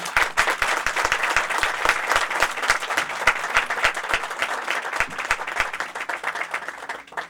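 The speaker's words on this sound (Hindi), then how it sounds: "आइए यीशु मसीह के लिए ताली बजाएं।" Evangelical church congregation at a Sunday meeting clapping for Jesus Christ, sustained close applause with some rhythmic claps, fading slightly near the end.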